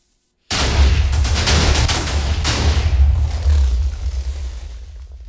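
A stacked cannon fires explosives in a block-building game, an abrupt loud onset followed by a dense rumbling barrage of booms and thuds that slowly fades, heard without speech.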